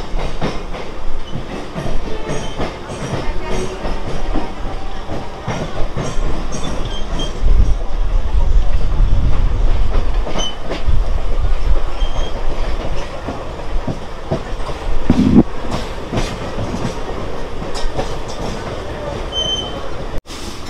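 A local train on the Pune to Lonavala line, heard from the open doorway, rumbles loud and steady with wheel clatter and occasional squeals throughout, with no voices.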